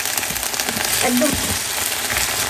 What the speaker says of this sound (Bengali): একদম জোরে জাল দিয়ে ভাজতে হবে